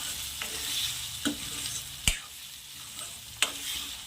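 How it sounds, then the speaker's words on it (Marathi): Chickpeas sizzle in hot oily chole masala in a pan, a steady frying hiss close up, broken by a few sharp clinks and scrapes of a spoon stirring. "आता यामध्ये आपण चणे ॲड करू"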